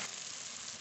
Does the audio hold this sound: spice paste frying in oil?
yes